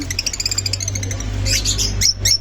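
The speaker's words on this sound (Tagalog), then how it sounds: "Napakaganda ng mga ibon." Lutino opaline pet birds chirping, rapid high tweets and squawky calls in quick bursts, close and fairly loud over a low steady hum.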